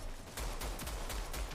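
Gunfire in a GTA roleplay game session: a rapid burst of several sharp shots in quick succession over a low rumbling background, fairly quiet and without talk.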